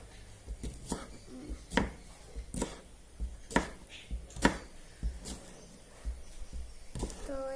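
Knife chopping onion on a board for chicken fried rice at home, a series of sharp, irregular knocks spaced about a second apart, close and fairly loud, with faint room noise between strokes.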